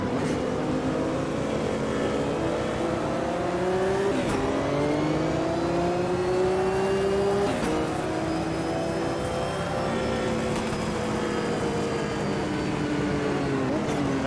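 GTP class prototype race cars in the racing game Automobilista 2 roar past one after another, engine notes rising and sweeping in pitch with gear changes, loud and continuous with no talk.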